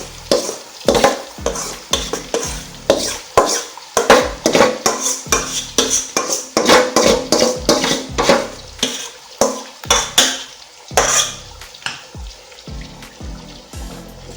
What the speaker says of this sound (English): I'll go in with my tomato, my fresh tomato for a start, and fry this thoroughly